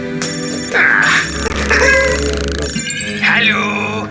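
A telephone rings in a French cartoon episode, repeated electronic ringtone trills standing out loudly over background music and sound effects.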